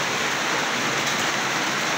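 Steady rain falling outdoors, a soft, even broadband hiss of drops pattering on surfaces, constant and fairly close with no other sounds standing out.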